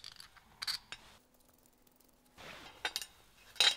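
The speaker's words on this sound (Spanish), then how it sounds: "Para separarlo de la base voy a poner estos cuatro tornillos." Four screws being driven in by hand to raise a small computer fan: short bursts of scraping, clicking turns, a quiet gap with a faint hum, then more crisp metallic ratcheting, close and intermittent, with no talk.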